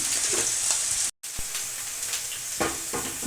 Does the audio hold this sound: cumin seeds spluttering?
yes